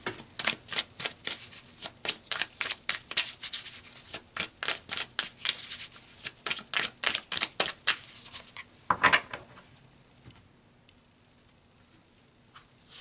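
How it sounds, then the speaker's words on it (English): Tarot cards shuffled in the hands, a rapid run of crisp riffling flicks for about nine seconds, then a card drawn with soft rubbing before a near-silent pause; close and clear, with no talking. "So let's pull some more cards, Libra."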